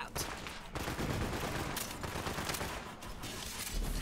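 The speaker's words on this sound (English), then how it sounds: "Sounds like they're still shooting." Gunfire in the shooter video game Borderlands 3 rattles in repeated bursts of rapid shots, loud and continuous, with brief pauses between volleys.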